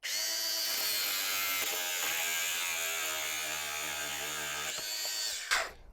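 A power tool trims the protruding ends off bolts fitted through a garden room door lintel, giving a loud, steady high-pitched whine that runs unbroken for several seconds, then cuts off abruptly with a brief clatter near the end.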